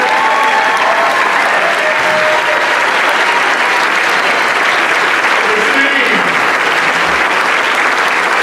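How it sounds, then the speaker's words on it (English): Loud, sustained applause from an inauguration audience welcoming Aurora's mayor-elect fills the space as an unbroken roar of clapping, with a few words spoken over it near the end. "Oh, you can keep the applause going."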